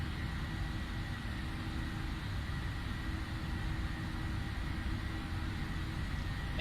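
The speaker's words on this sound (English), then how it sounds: "Power is established and takeoff. Takeoff power set." Jet engines of a PMDG 737 in a flight simulator held at takeoff power, giving a loud, steady broadband roar with a low rumbling base that never lets up.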